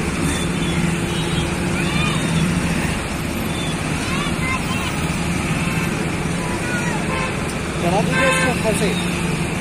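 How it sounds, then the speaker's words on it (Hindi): Heavy road traffic beside a bus stand: a steady, dense roar of passing vehicles with a short burst of horn toots near the end, and faint voices in the background. "बहुत ज़्यादा ट्रैफिक हो रही हो देख सकते हो पीछे"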